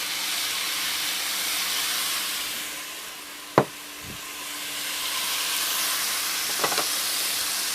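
Sofrito sizzling in a pot with rice and stock cubes, a steady broadband hiss throughout with a couple of brief knocks and clinks.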